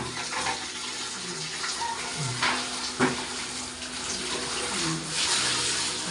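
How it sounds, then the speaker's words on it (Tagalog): Strong water gushes steadily from a shower in a home, a continuous hissing spray with a few brief bumps and splashes over six seconds. "Ayan, lakas yung tubig."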